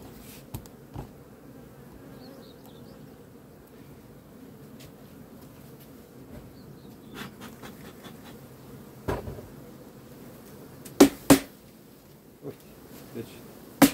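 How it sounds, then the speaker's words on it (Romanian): Honey bees buzz at a hive in a steady, dense drone, close but soft, while scattered knocks and handling clicks sound over it. "dar are albine destul."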